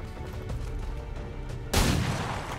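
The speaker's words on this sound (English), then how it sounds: "Fire your pistol." A pistol shot fired in XCOM 2 lands as a single loud, sharp blast about two-thirds of the way through, cutting in over a steady bed of low game ambience and tailing off briefly.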